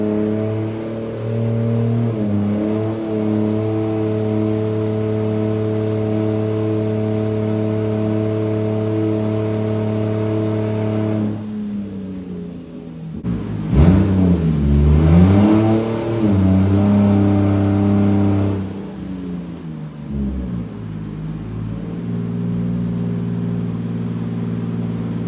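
A turbocharged 2JZ-GE VVTi engine in a GS300 on a dyno drones steadily under load, then drops off, revs in sweeping surges, and settles back into a loud constant drone.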